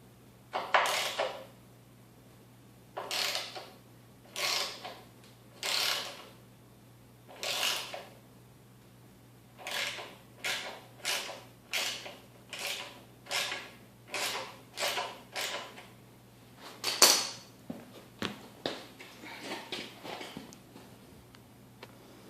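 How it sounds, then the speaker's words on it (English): Bolts being taken out of a lawn mower motor: a series of short metallic ratcheting bursts, several spaced apart then quicker and more regular, close and fairly quiet over a low steady hum. "now that I just finished taking all 3 bolts out"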